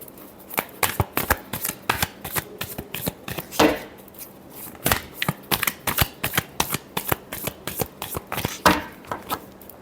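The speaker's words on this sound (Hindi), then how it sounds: "last shuffle" Tarot cards being shuffled by hand, a rapid, close run of crisp riffling bursts and slaps repeating steadily with no talk.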